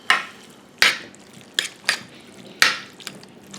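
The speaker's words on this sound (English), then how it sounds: "Stir them up." Drained canned mushrooms stirred in a pan, giving a handful of brief scraping, clattering strokes with wet squishy edges, close and moderately loud, separated by quiet pauses.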